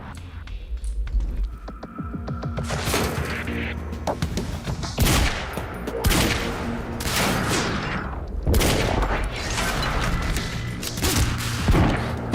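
Pistol gunfire in a video game, sharp shots in irregular clusters over a low throbbing hum and game ambience, fairly loud and close, with no talking.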